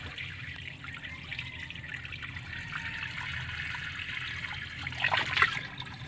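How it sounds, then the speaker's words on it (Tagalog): Water runs steadily from a tap into a pan while a guppy pond is cleaned and refilled, a continuous close trickle that grows briefly louder near the end. "nagsisimula tayo maglagay ng tubig sa pan"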